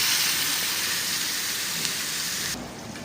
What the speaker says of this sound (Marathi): मच्छी तवा फ्राय चालू आहे.